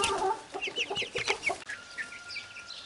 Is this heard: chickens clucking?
yes